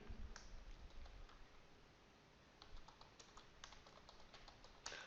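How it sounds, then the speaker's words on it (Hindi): Typing on a computer keyboard while entering text into the body of an HTML page, with faint irregular key clicks in bursts and pauses, quiet and close, with no voices. "तो आइए बॉडी के अंदर हम कुछ टाइप कर लेते हैं।"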